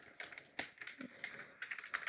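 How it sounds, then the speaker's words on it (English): A computer keyboard is tapped in a quick flurry of soft clicks as a Windows+R shortcut is pressed, the keystrokes close and fairly quiet with no talk. "hit Windows and R on our keyboard again"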